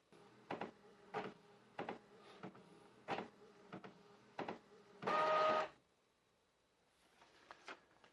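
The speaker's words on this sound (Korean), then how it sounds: "이렇게 정상적으로 프린트 되는 걸 확인할 수가 있습니다" A wired printer prints a page sent from a smartphone, with a series of regular mechanical clicks and thumps, then a loud whirring feed burst, followed by quieter clicks at low overall volume.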